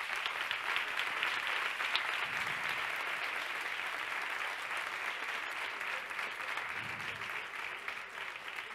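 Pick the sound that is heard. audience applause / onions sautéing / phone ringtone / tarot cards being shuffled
audience applause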